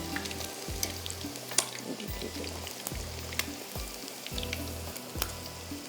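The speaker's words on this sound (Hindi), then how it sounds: "ये हमारे फ़िश के फिले जो हैं ये फ्राई हो रहे हैं" Fish fillets frying in hot oil, a continuous crackling sizzle with a rhythmic series of low bumps and occasional sharp pops, moderately close and without talk.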